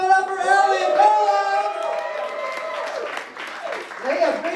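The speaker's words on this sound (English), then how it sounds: "Clap it up for them." Applause and a few whoops from a live game show crowd at Asylum NYC greet two finalists, with a host's voice carrying over the clapping as it fades and swells again.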